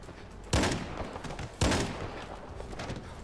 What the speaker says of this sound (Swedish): Ordentligt med skott.